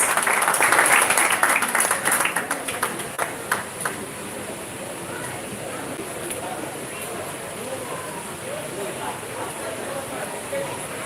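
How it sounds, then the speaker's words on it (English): Audience applause at a Trelawny awards ceremony: crowd clapping swells at the start and fades within a few seconds, leaving a murmuring room with scattered sounds and low chatter underneath. "I think we can do better with the round of applause"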